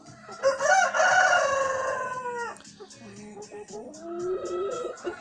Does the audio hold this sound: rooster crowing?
yes